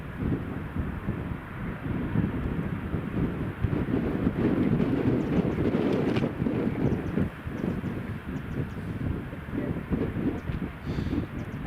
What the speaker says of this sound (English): EasyJet Germany is taxiing.